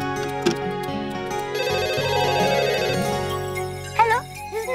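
A telephone rings with a repeating electronic ringtone melody in a household setting, clear and steady for several seconds with no talk over it.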